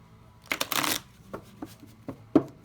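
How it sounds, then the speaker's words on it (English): Tarot cards riffled and shuffled in a burst of papery flutter lasting about half a second, followed by several softer taps and slaps as the deck is squared and handled, close and fairly quiet. "Now I'm being guided to shuffle 3 more times."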